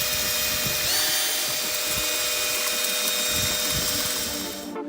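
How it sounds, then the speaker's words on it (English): Plastering machine driven by an ordinary handheld drill, its steady high whine running continuously with a brief pitch shift near the start, grinding mechanical noise underneath and no voices. "This machine doesn't have its own motor and is powered by an ordinary drill."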